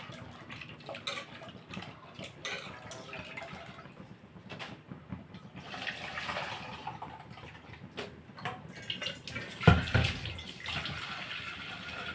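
Tamarind water poured into a pot of simmering fish curry, a continuous watery pour and splash, with a brief louder clatter near the end.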